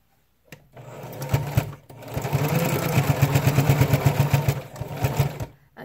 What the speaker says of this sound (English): do a back and forth stitch at the edge